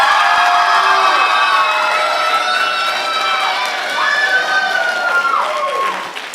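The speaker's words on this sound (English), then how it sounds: "It's the first time that anyone's ever received a standing ovation." A class claps and cheers loudly to vote in a classroom contest, with high shouts and whoops from students over the applause. The noise stays loud throughout and eases slightly at the end.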